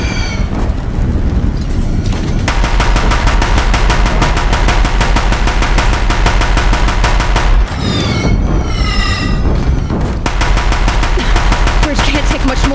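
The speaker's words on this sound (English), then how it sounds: "If the Deathbringers keep firing," Deathbringer machines in Horizon Zero Dawn fire sustained heavy gunfire at a bridge, a dense, loud rattle of rapid bursts with booming impacts and metallic whines layered over a thick game soundtrack.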